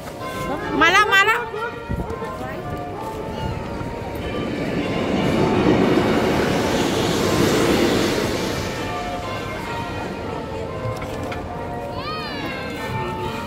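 A train rumbles past in the town of Lincoln, England, its roar building to a broad, loud swell midway and then fading, while people and children talk nearby.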